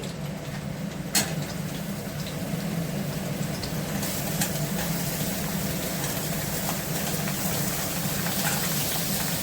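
Sliced ridge gourd with onion and green chilli sizzling in a hot pan, a steady dense hiss with a sharp splutter near the start and a low hum running underneath.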